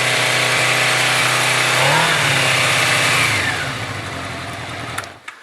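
A motorcycle engine held at high revs on the throttle during a charging-system check, a loud steady mechanical roar whose pitch rises briefly then falls away as the throttle closes toward idle, ending in near silence.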